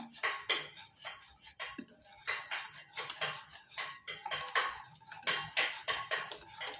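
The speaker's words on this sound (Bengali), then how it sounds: "আমি দশ মিনিট এইভাবে ভালোভাবে ফেটিয়ে নেব" Semolina sponge cake batter made with room-temperature milk being whisked in a bowl, a fast rhythmic clatter of utensil against bowl repeating in quick bursts, close and alone.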